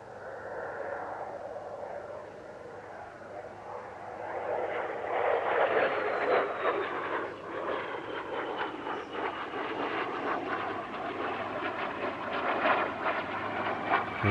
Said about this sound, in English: next up came the Vampire FB6, representing the second British jet fighter to enter service